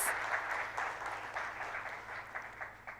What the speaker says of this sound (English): welcome Sir with a thundering round of applause